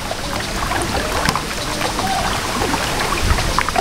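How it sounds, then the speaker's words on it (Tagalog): An oar paddles a rowboat on a river, soft splashes and trickling water drip at irregular intervals against a steady outdoor wash. "Ang galing mo naman magsagwan"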